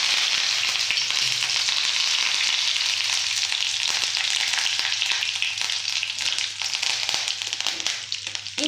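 Urad dal and curry leaves frying in hot sesame oil for idli upma, a loud, dense crackling sizzle that starts strong and thins slightly toward the end, close up and uninterrupted.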